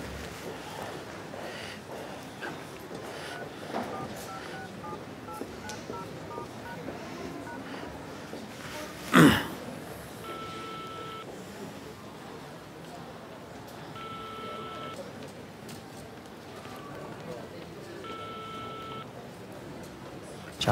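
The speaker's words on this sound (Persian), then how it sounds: "موبایلمو جا گذاشتم، میتونم با موبایلتون زنگ به امیر بزنم" Tones from a borrowed mobile phone as a number is dialed, a few short beeps spaced apart over a steady low room background, with one sharp louder click in the middle.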